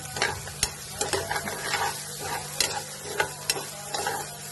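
Bitter gourd pieces fry in oil while a spatula stirs and scrapes the pan, producing a low continuous sizzle broken by sharp, irregular clinks and scrapes, close and fairly quiet.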